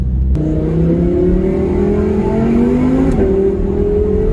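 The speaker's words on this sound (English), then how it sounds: "Wow, that V10 sound, like I live for that sound." A 2017 Audi R8 V10 Le Mans Edition engine revs hard in a tunnel and climbs in pitch, loud and close, with a brief shift partway through before the roar builds again.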